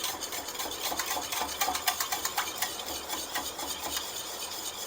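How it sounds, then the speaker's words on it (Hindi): Pancake batter being beaten in a bowl with steady, rapid scraping strokes, loud and close, with a continuous rhythmic whisking texture. "थोड़ा सा इसको बीट करेंगे अच्छे से"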